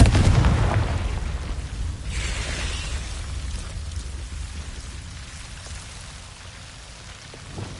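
A Confringo blasting spell is cast in the Hogwarts Legacy video game, giving a loud burst at the start that fades into a long, rumbling, crackling noise.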